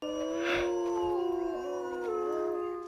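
Endangered gray wolves in California howl in overlapping, sustained tones that rise and bend, several voices layered at close range and fairly loud, with no speech.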